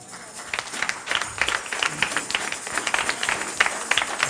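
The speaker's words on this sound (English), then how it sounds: "give our speaker of the hour a round of applause" A congregation at a Sunday church service in Hampton, Virginia stands and applauds the speaker, giving steady, moderately loud clapping from many hands that swells and fades over several seconds.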